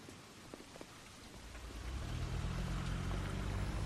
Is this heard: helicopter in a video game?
no